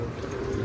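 A pigeon coos softly and close by for a brief moment, the low murmur sitting over a steady background hiss.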